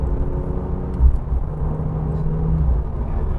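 Modified Porsche 911 Carrera T with its smaller engine, driving along: a steady, fairly close engine drone and road rumble with a low tonal hum that swells slightly, no voices.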